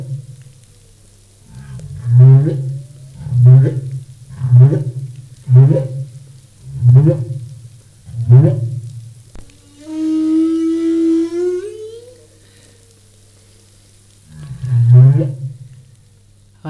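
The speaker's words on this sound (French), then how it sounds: "nous allons à présent écouter les baleines à bosse" Humpback whale song: a slow series of about eight deep, pulsing moans at regular intervals, broken by one longer rising wail, loud and clear with no talking.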